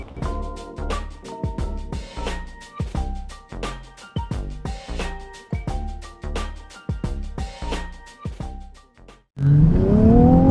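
A Dodge Charger Hellcat with a dual exhaust and almost 700 horsepower revs hard in rapid, loud, close bursts that rise and fall, ending in a sustained roar.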